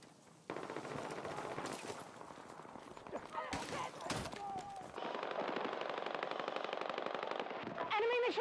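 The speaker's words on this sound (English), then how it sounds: "Enemy machine gun!" Bursts of enemy machine gun fire in a military shooter video game, rapid and loud, mixed with other gunfire and game sounds while a voice talks over the action.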